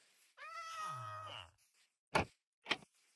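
A Minecraft village cat lets out one drawn-out, whining meow, followed by two short, sharp noises, with no voices in the gaps.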